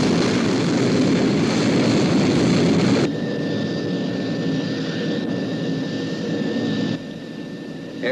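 Steady, loud roar of the Sky One aircraft in flight from the UFO sci-fi series, a continuous engine drone that shifts in tone partway through with a thin high whine above it.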